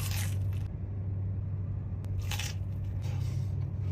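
Close crunchy bites into a crispy, buttery-crusted Chinese mo bun filled with fatty pork, giving a few short crackling bursts over a low steady background hum.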